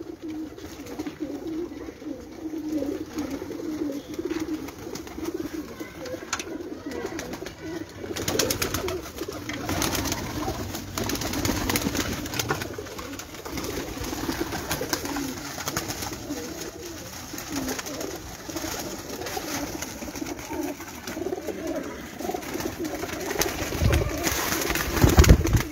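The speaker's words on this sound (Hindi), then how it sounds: "चैंपियन कबूतर ना" Champion pigeons coo continuously in a loft, low soft throaty calls from several birds overlapping steadily at close range, with faint background noise and no talking.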